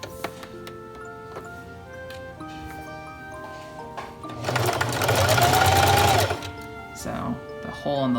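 A home sewing machine runs a zigzag stitch around the legs of a newborn onesie, its steady mechanical ticking chattering along, then swelling into a louder, faster whirring burst before settling back.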